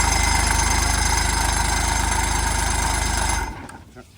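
A new boat motor idles loudly and close with a steady low rumble, then cuts out abruptly near the end and leaves quiet behind.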